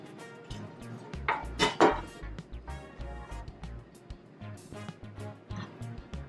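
A metal loaf pan of freshly baked banana bread being flipped over, a few close clattering clanks and knocks of pan against counter, fairly quiet with light handling noise after.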